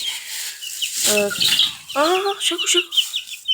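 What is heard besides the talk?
Kuwaiti chickens, rooster and hen clucking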